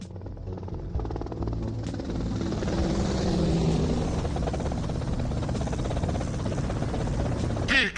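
A helicopter in the game GTA Vice City drones steadily with a continuous rotor thrum and whine, loud and close, holding constant for the whole stretch.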